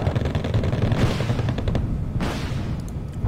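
Infantry rifle gunfire in the war strategy game Wargame Red Dragon: dense, continuous crackling shots and rumbling booms under a low battle din, with no pauses.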